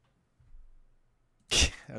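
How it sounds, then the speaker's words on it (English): One sharp, close sneeze near the end, preceded by a soft intake of breath and near silence. "I have to sneeze"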